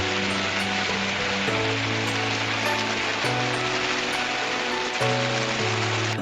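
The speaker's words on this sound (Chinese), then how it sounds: "拿着饭店的雨伞淋着大雨" Heavy rain pours down on a busy street in Hiroshima, Japan, heard from under a hotel umbrella as a steady, dense hiss that runs the whole time beneath a sustained tonal music bed.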